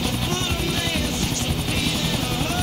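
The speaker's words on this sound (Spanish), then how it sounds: "bastante sencillo de manejar el helicóptero" A helicopter in Grand Theft Auto 4 flies steadily, its rotor thumping loud and close with a continuous engine roar throughout.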